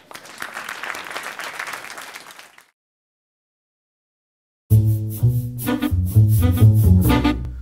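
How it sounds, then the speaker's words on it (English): Audience applause for criminal justice reporting award winners, a dense patter of clapping lasting a couple of seconds and then fading, followed after a pause by loud music. "So let's give them all an applause."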